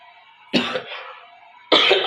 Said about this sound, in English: apology my cough